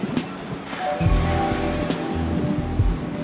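Ocean swell breaking at a home surf break in light offshore wind, a steady roar of surf with rolling low rumbles of waves crashing, fairly close and continuous.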